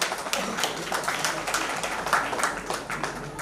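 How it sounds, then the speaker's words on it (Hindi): An audience applauds after a performance at a Kargil Diwas event, a steady wash of many hands clapping at moderate loudness with individual claps standing out, sustained throughout. "प्रस्तुति के लिए जोरदार तालियां।"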